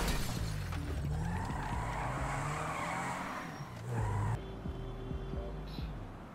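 A car pulling out of a garage in GTA 5 Online, with engine hum and skidding tire squeals, continuous and fairly close, ending in brief sharp knocks.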